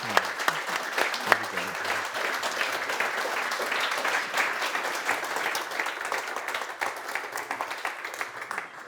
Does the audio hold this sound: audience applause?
yes